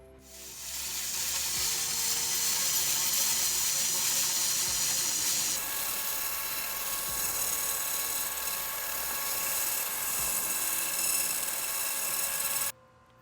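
Laser cleaner stripping rust from the rocker panel of a first-generation Toyota 4Runner, a continuous bright hissing sizzle with a high whine, steady and close for about twelve seconds before cutting off.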